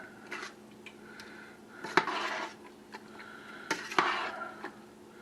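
A big spoon stirs a sausage and spinach casserole in a pot, giving soft scraping and a few sharper clinks of metal against the pot, with two louder knocks at roughly two-second spacing, all fairly close.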